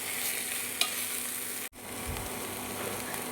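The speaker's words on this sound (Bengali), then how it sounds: "এবার একটু নেড়ে চেড়ে নেব।" Papaya ghonto with sugar and ghee being stirred in a pan, a soft sizzle with scraping strokes, a brief sharp knock near the start and a short dropout midway.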